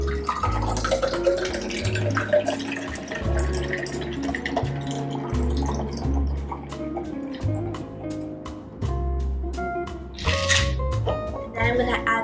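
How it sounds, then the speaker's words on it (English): Cheese tea drink poured from a cocktail shaker into a glass, a liquid pour with drips and splashes under a steady music bed and some talk. "So I'm going to pour the drink in."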